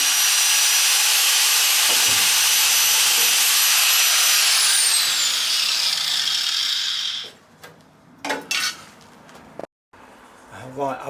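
A power tool cuts steel body panels on a Triumph TR6 under restoration, a loud sustained high whine for about seven seconds that then stops, followed by a few short clanks and handling noises.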